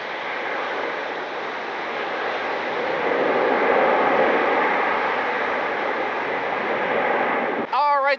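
A jet airliner's engines roar in a broad, steady rumble as it lands at night on runway 24 right at Cleveland Hopkins International Airport, sustained and fairly distant, cutting off abruptly near the end.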